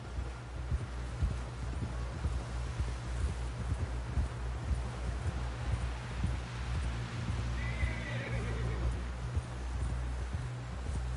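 In the video game Red Dead Redemption 2, a horse whinnies partway through over a steady low rumble and rustling, with no talking.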